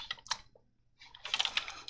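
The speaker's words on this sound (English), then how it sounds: "we can just check the contents of the file by typing a less mirror list" A computer keyboard clatters as a short command is typed during an Arch Linux installation, a quick burst of keystrokes, a brief pause, then a denser run of close clicks.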